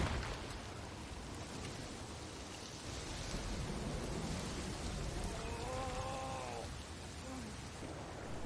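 Steady rain patters and splashes across a surface in a continuous hiss, with a faint voice-like tone briefly rising in the background.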